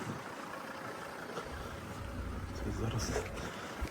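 A Volvo V60 D4 diesel engine, 120 kW, idles with a low, steady rumble and a faint mechanical rattle, close by, with no talking over it.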